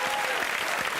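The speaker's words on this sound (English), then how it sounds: "I'd like to give a massive round of applause to everyone that works at the ABC for this incredible 80s set" Studio audience on a TV quiz show's 1980s-themed set breaks into loud, dense applause, a continuous wash of clapping that fills the whole moment.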